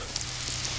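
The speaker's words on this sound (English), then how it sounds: "we got sizzling sausages over the fire in the cast iron" Sausage links sizzle in a cast iron pan over a campfire, a steady close hiss of frying fat with faint crackles.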